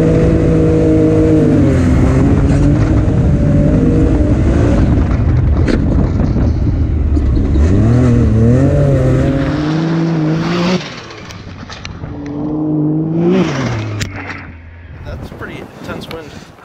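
Can-Am X3 side-by-side with LSR suspension revving hard and jumping outdoors, a loud continuous engine roar rising and falling in pitch, then dropping off before a second rev near the end, with wind noise.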